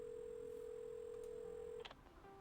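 In the video game Assemble With Care, a steady telephone dial tone holds for nearly two seconds, then gives way to a few quick, clear keypad dialing beeps.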